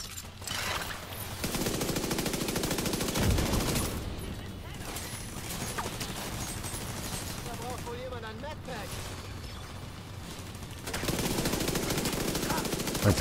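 A mounted turret in The Division 2 fires in steady rapid bursts, loud and continuous, with shifting battle noise and brief quieter stretches mid-clip while voices talk over the action.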